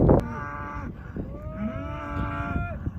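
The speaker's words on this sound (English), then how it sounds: "We are trying to lead our group of cows and calves across the road here from the home farm" Cattle herd of cows and calves crossing a rural Kansas road from the home farm, with a loud close moo rising and holding for a couple of seconds over a low rumble of shuffling animals and other lowing.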